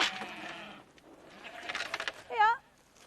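Sheep bleat in a short burst while being fed pellet sheep nuts, a wavering cry near the end after earlier bleats, close by and moderately loud, with a voice speaking at the start.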